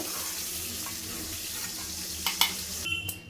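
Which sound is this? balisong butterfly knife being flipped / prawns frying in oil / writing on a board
prawns frying in oil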